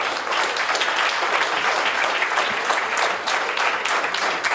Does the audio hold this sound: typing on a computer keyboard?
no